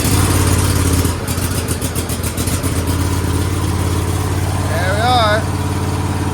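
The engine of a 2006 Cub Cadet Super LT 1554 riding lawnmower runs rough at a loud, steady idle close by, with uneven pulsing, while someone speaks briefly over it.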